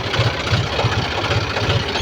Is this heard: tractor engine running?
yes